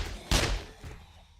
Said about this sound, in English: Maybe the gunfire woke them up.